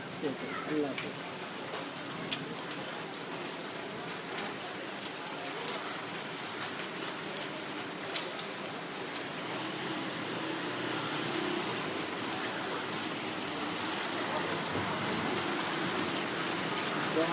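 Heavy monsoon rain pours down in Lahore, a dense, unbroken hiss of drops drumming on surfaces that holds steady and close for the whole stretch, with a few sharper splashes near the start.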